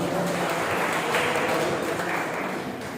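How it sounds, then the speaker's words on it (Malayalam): An audience at a KVVES Ponnurunni unit gathering after an election claps, a dense, loud burst of many hands that holds steady for a few seconds before tapering slightly. "ഒരു നിറഞ്ഞ കയ്യടി അദ്ദേഹത്തിന് നമുക്ക് സമർപ്പിക്കാവുന്നതാണ്."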